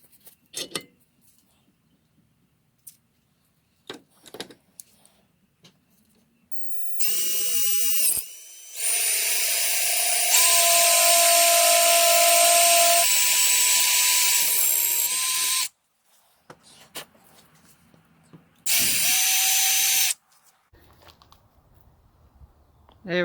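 A power drill whines steadily while drilling out a ported fuel fitting, running for several seconds in one long burst, then again in a shorter run, with quiet clicks and handling noises between.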